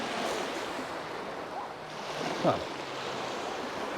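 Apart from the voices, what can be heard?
incoming tide waves at the Bristol Channel shore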